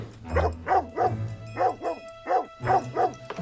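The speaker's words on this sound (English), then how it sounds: "His dog's been barking all night long." A dog barks repeatedly at night in a rhythmic series of about nine close, loud woofs, grouped in twos and threes, with a low rumble underneath.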